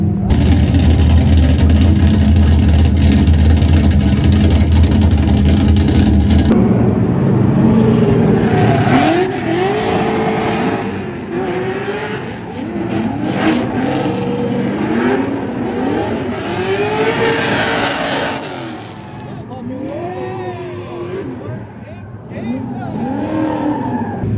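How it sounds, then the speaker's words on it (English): An LS-swapped Nissan 350Z at a track event roars loudly at full throttle, then revs rise and fall repeatedly with tire squeal as the car drifts through corners, a voice speaking over parts of it. "I initiate, give it some gas, and the car works."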